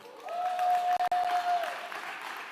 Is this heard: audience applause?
yes